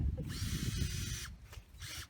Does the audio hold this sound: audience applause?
no